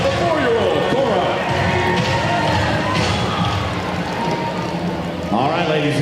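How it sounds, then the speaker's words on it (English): Crowd at a Banana Ball baseball game in Banana Land applauding and cheering for a young child, a dense steady roar of claps and voices throughout, with an announcer-like voice mixed in. "Big round of applause for 4-year-old Cora."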